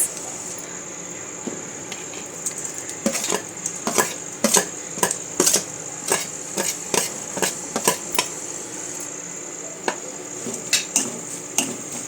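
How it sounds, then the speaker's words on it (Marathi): A spatula scrapes and taps against a pan in quick irregular strokes while almonds and grated coconut are stir-fried, close and clear over a faint steady hiss. "परतून घ्यायचं आहे बदाम आणि खोबऱ्याचा किस"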